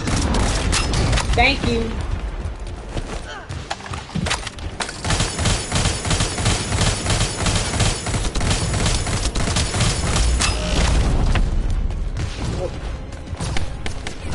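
Rockets fired in a video game, with heavy booms and thumping blasts in a constant barrage, mixed with gunfire while someone talks excitedly over the din.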